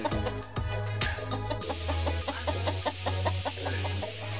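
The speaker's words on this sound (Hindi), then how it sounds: "देखिए इसमें मुर्गा भी बंधा हुआ है" A desi rooster tied up at a house under construction, with a few close clucking calls and a steady low mechanical hum underneath.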